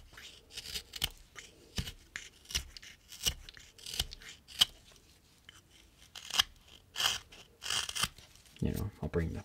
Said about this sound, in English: you can just cut it off like I'm going to.